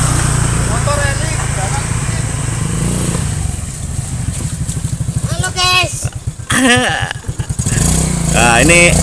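Motorcycle riding over a badly broken, rough road on the way to a fishing trip, engine droning and revving with choppy bursts as the bike bumps along, with a voice talking over it near the microphone.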